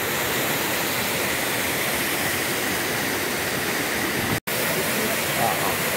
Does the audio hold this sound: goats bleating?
no